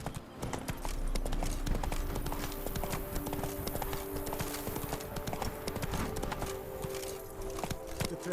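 The horse Roach's hooves clip-clop steadily and close in The Witcher 3, a dense, continuous rhythm of hoof strikes on hard ground over a faint ambient bed.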